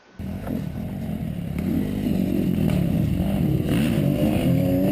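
An enduro motorcycle engine roars steadily and loudly nearby during a stoppie, holding a rough, sustained drone from start to finish without any voices.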